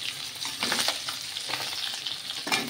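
Fish frying in a home-kitchen pan sizzles close up, and a crackling hiss rises and falls in several bursts as the pieces are stirred or turned, with no voices.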